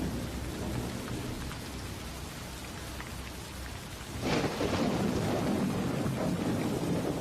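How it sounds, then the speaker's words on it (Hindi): Heavy rain pours onto the ground in a dense, continuous hiss. It grows noticeably louder a little past the midpoint and stays strong to the end, with no voices. "बारिश की बूंदें भारी होकर जमीन पर गिर रही थीं"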